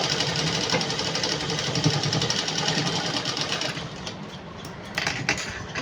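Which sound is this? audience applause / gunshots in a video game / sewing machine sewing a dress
sewing machine sewing a dress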